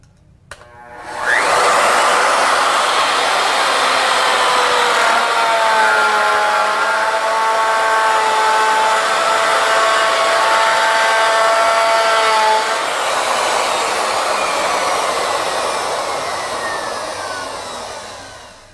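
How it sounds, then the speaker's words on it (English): A router bit on a Legacy ornamental mill spins up sharply and cuts steadily through wood with a loud, sustained high-pitched whine and rasp. It runs for about eleven seconds, then winds down. "We'll just turn the router bit on and start making a cut."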